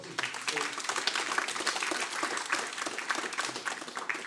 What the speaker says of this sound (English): Will you give Peter a round of applause?